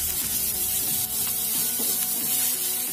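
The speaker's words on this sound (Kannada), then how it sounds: "ಈಗ ಎಣ್ಣೆನಲ್ಲಿ ಒಂದ್ ನಿಮಿಷ ಈರುಳ್ಳಿ ಫ್ರೈ ಆಗಿದೆ." Onion frying in oil in a pan, a steady dense sizzle, loud and close throughout, with faint stirring underneath and no talk.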